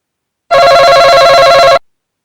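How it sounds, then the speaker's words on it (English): A game show style buzzer tone sounds once, loud and steady for just over a second, then cuts off abruptly, with no talking. "I'm ringing the buzzer on myself."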